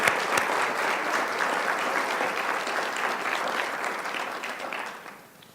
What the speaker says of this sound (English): Join me in a round of applause for these individuals.